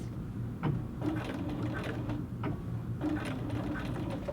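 Home sewing machine back-stitching a few stitches at the top of a little girl's dress zipper under the collar: quiet, rapid mechanical needle chatter in short bursts, close and alone without talk.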